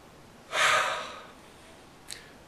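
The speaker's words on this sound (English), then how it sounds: "take a deep breath" A single deep inhalation, a strong airy breath lasting about half a second, then a fading exhale and a brief faint catch near the end, heard alone in a quiet room.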